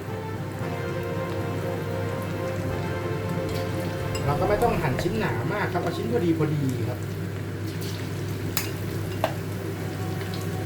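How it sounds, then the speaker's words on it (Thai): Pieces of pork belly frying in hot oil, with a continuous sizzle and crackling spatter that briefly grows busier, all under someone speaking Thai. "หมูพวกนี้มันชอบกระเด็นกระดอนนะฮะปีดป๊อกแป๊กป๊อกแป๊กนะครับ"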